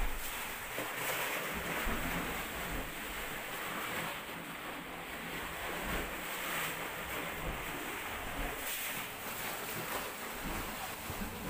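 Sea waves surge and wash continuously near the mouth of a sea cave, a loud, rushing roar with periodic swells and gusty wind buffeting the microphone.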